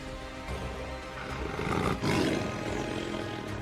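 Two male lions fighting in the wild, with deep rumbling growls that swell into a loud, raw roar midway and continue as heavy snarling to the end.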